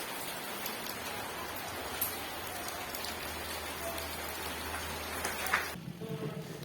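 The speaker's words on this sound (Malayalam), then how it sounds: "നല്ല മഴയാണ് കേട്ടോ പുറത്ത്" Heavy rain falling outside, a soft steady patter and hiss of drops with a few sharper splashes, fairly faint and heard from a distance, ending in a quieter stretch at the very end.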